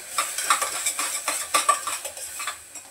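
Spice powders are sautéed in a pan with quick, rhythmic scrapes and clinks of a spoon against metal over a light sizzle, close and fairly brisk.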